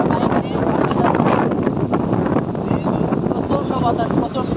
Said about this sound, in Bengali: প্রচণ্ড বাতাস, প্রচণ্ড।